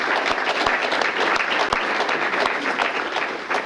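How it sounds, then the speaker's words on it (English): Steady applause from a crowd at a city employee recognition awards event, dense clapping throughout at an even loudness, with no voices standing out. "let's have a round of applause for that."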